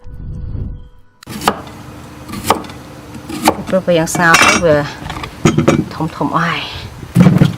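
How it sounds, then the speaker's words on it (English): Daikon radish cut into pieces about an inch long on a board, with a few sharp knife knocks and clinks spread out between stretches of someone talking. "You're just going to cut it about 1 inches, like pieces like that."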